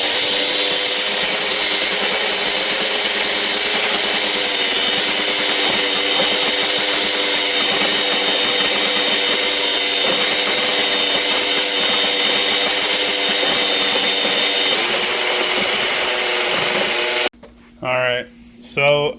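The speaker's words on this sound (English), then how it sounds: "I'm going to get a drill and stir this up." Power drill churning a honey mash for moonshine in a bucket, a loud continuous whirring grind lasting about seventeen seconds, close up, followed by someone speaking.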